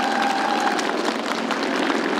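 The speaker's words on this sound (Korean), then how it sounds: "지휘자 선생님들께 다시 한번 큰 박수 부탁드리겠습니다" Sustained applause from a concert audience after a choir performance at an arts festival, a dense, steady wash of many hands clapping at once, loud and continuous throughout.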